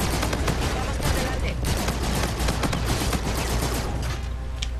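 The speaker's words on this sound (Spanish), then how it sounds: "voy a utilizar aquí la ametralladora ligera RAW RAO" Rapid sustained bursts from the RAW light machine gun in Call of Duty: Infinite Warfare on PS4, loud and close with dense rattling reports running nearly the whole time.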